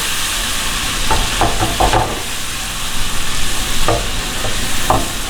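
Black pepper is stirred into fish frying in a pan, giving a constant close sizzle with repeated scraping and clacking of the utensil against the pan.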